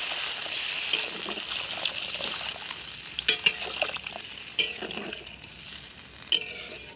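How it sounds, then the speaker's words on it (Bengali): Water poured into a simmering thin Bengali curry of rohu fish and drumstick pods, a steady sizzling hiss with a few glassy clinks and brief louder splashes, close and with no voices. "এবার আমি জলটা পরিমাণ মতো দিয়ে দিচ্ছি।"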